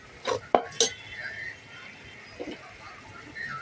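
A cooking pot wobbling on a home stove while chicken biryani is prepared gives a few sharp metallic clanks early on, then fades to a quiet room hush.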